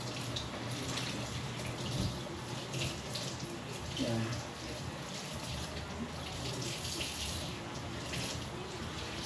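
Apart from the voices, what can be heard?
tap water running while washing string beans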